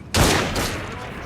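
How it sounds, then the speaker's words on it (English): A sudden loud, dense burst of gunfire from several shooters at once in the video game Assassin's Creed, fading quickly into a ringing echo. "There was like 5 people shooting the same person at the same time."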